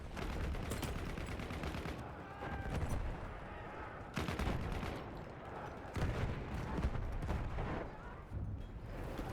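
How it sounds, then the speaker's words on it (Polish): Explosions and gunfire in the first-person shooter Battlefield 1 during an assault on Amiens, a dense, loud barrage of blasts and rapid shots with sharp booms punctuating a steady roar of battle. "Wszystko wybucha."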